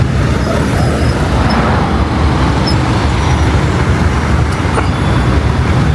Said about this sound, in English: I just wanted to show you the traffic